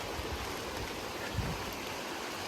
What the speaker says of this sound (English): Listening to that river run.